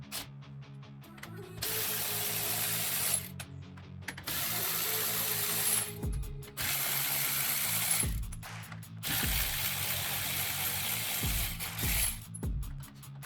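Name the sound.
removing lug nuts from a 1967 Dodge Dart wheel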